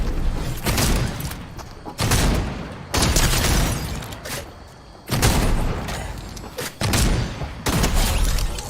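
Heavy gunfire in a shooter video game, with loud, dense bursts of shots and booms coming in repeated waves separated by short lulls, close and dominant throughout.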